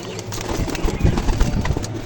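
Several Teddy pigeons coo together in a loft at a pigeon sale, producing a steady, fairly loud low murmur of overlapping coos with some scuffling and no speech.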